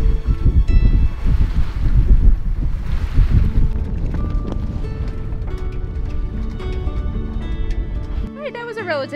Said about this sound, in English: You got a really strong current going out and a really strong wind coming in, so you got wind over tide.